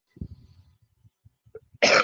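A harsh, wet cough bursts out alone and close at the end, preceded by faint throat noises and small sniffs, as someone clears phlegm from their chest.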